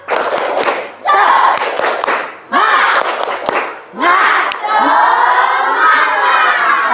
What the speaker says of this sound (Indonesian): Ya, kita tepuk semangat dulu.